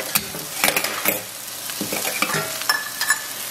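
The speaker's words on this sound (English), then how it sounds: "And we're going to add the eggs to the skillet." Beaten eggs mixed with green onions hit a hot skillet with a loud, close sizzle, broken up by stirring scrapes and spatula clicks across a few seconds of meal prep.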